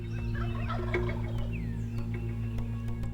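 A flock of wild turkeys calling in the woods, with clucks, yelps and rolling gobbles from several birds at moderate distance, over a steady low background hum.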